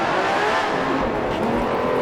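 A 1960s-style race car in the Grand Prix Legends game slows under braking into La Source at Spa, its engine a loud, continuous close roar with a faint tire squeal.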